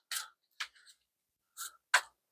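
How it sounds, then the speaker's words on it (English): A few brief papery riffles and flicks of cards being shuffled, quiet and close, separated by short silences. "I'm going to give it about 3 more shuffles."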